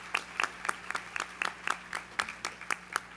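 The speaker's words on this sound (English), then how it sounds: "So give me a round of applause for that." At a WKU-sponsored business breakfast gathering, a small crowd claps in a fairly regular, spaced rhythm, each clap distinct and close, with a soft low hum underneath.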